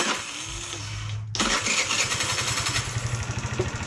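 A GY6 50cc scooter engine cranks and catches, settling into a loud, close, fast-pulsing idle with a steady rhythmic putter.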